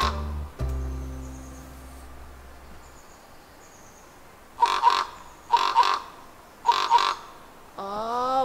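Crows caw in a redwood forest, four loud, evenly spaced calls in the middle and end of the stretch over quiet outdoor ambience, fairly near.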